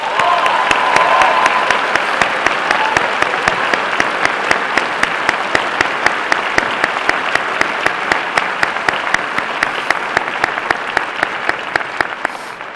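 Commencement audience applauding, dense sustained clapping from a large crowd that fills the hall and tapers slightly toward the end, with sharp individual claps standing out.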